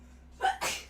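One short sneeze, a quick sharp inhale followed by a breathy burst, close and moderately loud in a quiet room.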